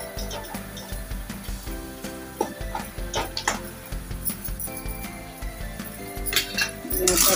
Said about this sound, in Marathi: ते मसाले आपल्या कांद्यामध्ये मिक्स करून घेऊया